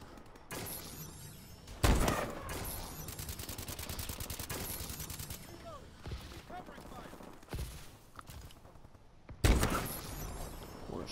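Gunfire in Call of Duty: Advanced Warfare, with rapid machine-gun bursts running almost nonstop and louder single blasts near the start and end, all up close and dense, with a voice talking faintly underneath.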